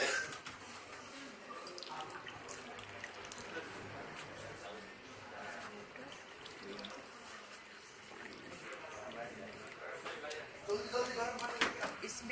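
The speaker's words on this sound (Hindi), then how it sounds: "इसमें गर्म पानी डालते हैं पहले" Hot water trickles and splashes as it is poured for tea, a continuous watery pour under a voice talking, swelling louder toward the end.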